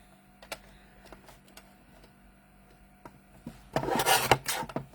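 Paper sheet being trimmed, a faint scratching and ticking at first, then a louder, close rasping cut through the strip near the end, with no speech.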